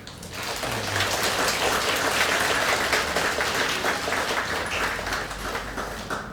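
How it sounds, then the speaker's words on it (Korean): A congregation at a Catholic Mass applauds, a dense, even wash of clapping that swells in and holds steady for several seconds, filling the room at moderate volume. "이분들 위해서 한번 박수 한번 쳐주시오"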